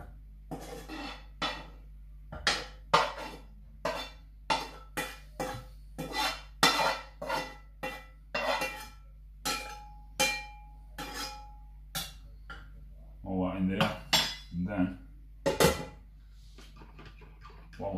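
Chunks of rabbit liver, kidney, heart and back strap stew ingredients tipped into a pan, with a long run of sharp metal utensil clinks and scrapes at an uneven rhythm, close and fairly quiet, no talk.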